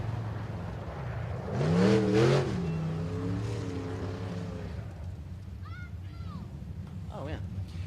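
Race cars run time trials at a speedway during the Mike Parker Memorial, with a loud engine roar rising and falling as a car passes, then a steady mechanical drone under a commentator's voice.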